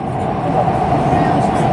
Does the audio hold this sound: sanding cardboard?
no